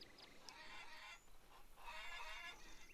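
Clucking and squawking from a rooster in the video game Farmers Dynasty, with short rough calls in two bursts, fairly quiet and close.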